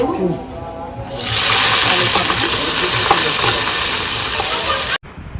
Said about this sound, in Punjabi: ਇਹ ਹੁਣ ਤੇਲ ਅਸੀਂ ਗਰਮ ਧਰਤਾ ਹੁਣ ਇਹਦੇ ਵਿੱਚ ਪਾਵਾਂਗੇ ਪਿਆਜ਼